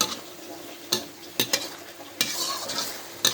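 Beef and holy basil are stir-fried in a hot pan, with a continuous sizzle and several sharp scraping strokes of a spatula against the metal.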